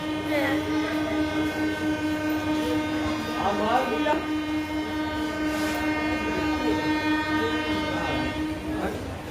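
A train rumbles along while its horn sounds a long, sustained tone throughout, loud and close.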